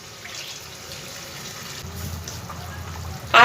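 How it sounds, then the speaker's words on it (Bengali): Water used to rinse spices is poured into frying masala, a soft low gush starting partway through over a faint sizzle, with a louder splash at the very end. "এই পর্যায়ে আমি মশলা ধোয়া জলটা আমি সম্পূর্ণ দিয়ে দিচ্ছি এর মধ্যে।"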